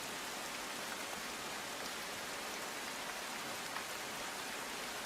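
Heavy rain falls in Gujarat, a dense, even hiss of downpour on surfaces that stays constant and unbroken throughout, with no voices.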